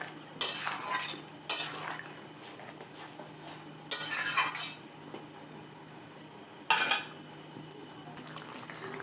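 Fried potatoes and soybean chunks are sautéed in thick gravy. A low simmer runs underneath while about four distinct bursts of spoon scraping against the pot stand out at intervals.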